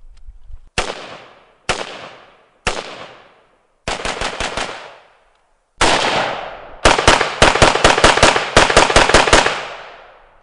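A 5.45 carbine fires rounds outdoors, sharp loud single shots at first, then rapid strings and bursts with short pauses, each crack ringing briefly.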